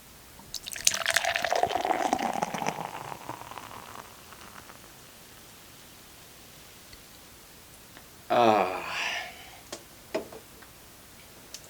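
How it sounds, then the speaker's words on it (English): Beer is hard-poured into a glass, a loud splashing gush at first that fades into a softer fizzing trickle, then a short burst of sloshing and a few faint ticks later. "Here goes a hard pour."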